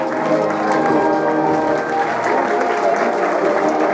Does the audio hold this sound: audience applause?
yes